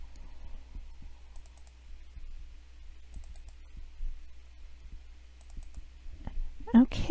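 Mouse clicks while shape points are edited in Adobe Illustrator: sparse, soft, quiet clicks scattered irregularly over a low steady hum, with a slightly louder cluster near the end.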